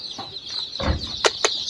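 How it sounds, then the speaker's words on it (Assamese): Young local chicks, about fifteen days old, kept with quail and black chickens, give a few faint cheeps over a soft rustle, with two sharp peeps near the end. "চাওক বৰ্ডিং লোকেল মুৰ্গী পোৱালি"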